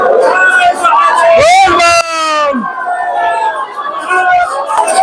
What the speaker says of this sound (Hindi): देखियो ई छै सावलक भीड़